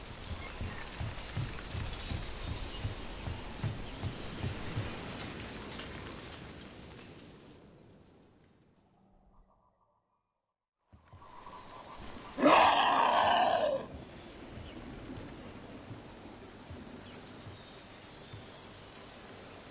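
Rain falling in the video game Dragon Age: The Veilguard, a steady wash of rainfall that fades to near silence midway, then returns with a sudden loud burst resembling a thunder crack before settling back into rain.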